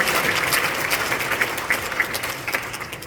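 A church general assembly of the Baekseok Daeshin denomination approves a candidate by acclamation with a steady round of applause from a large hall, sharp individual claps standing out from the crowd.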